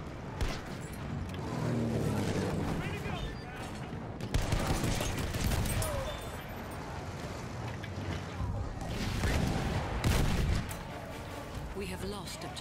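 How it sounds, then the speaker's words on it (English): Battlefield 1 machine gun fire in bursts amid heavy battlefield gunfire and explosions, loud and chaotic, with players talking over the shooting. "Machine gun right there!"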